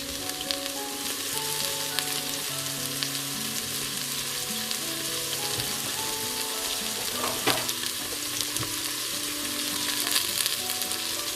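Onions sizzle and crackle steadily in hot oil in a pan, a constant close frying hiss with occasional pops.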